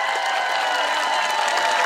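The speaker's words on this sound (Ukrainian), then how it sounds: "Отож, оплески пані Марії!" A crowd claps continuously, a dense even wash of applause with no speech over it.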